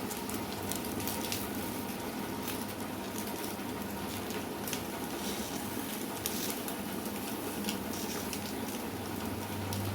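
Fish fries in mustard oil on a banana leaf Barishal-style, a soft, even sizzle and bubbling that carries on steadily throughout with no talk.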